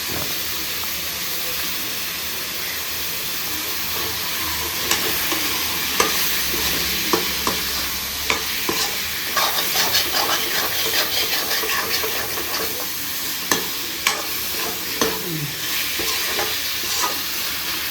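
Prawn thokku frying in a pan: a steady, loud sizzle and hiss of oil continues throughout, with repeated scraping and clinking stirring strokes scattered over it and no talk.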